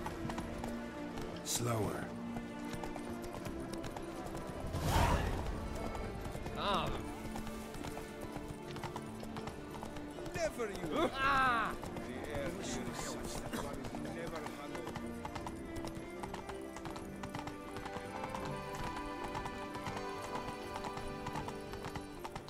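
In the video game The Witcher 3, a horse gallops with a steady clip-clop of hoofbeats and gives a brief whinny, heard under a player's near-constant talking.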